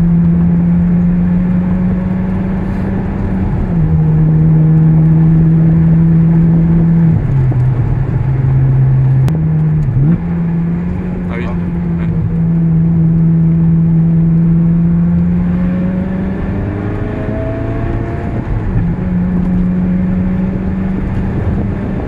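A Ferrari 360 with a reprogrammed F1 gearbox idles steadily with a loud, close engine drone, then takes several short throttle blips that push the pitch up before it settles back to idle.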